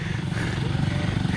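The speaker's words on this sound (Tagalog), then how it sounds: "May motor." A motorcycle engine drones steadily on a road during a ride to a waterfall, a loud continuous rumble with wind noise filling the short moment.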